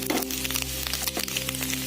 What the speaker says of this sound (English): chaps are quite cooked now, and it is sizzling brown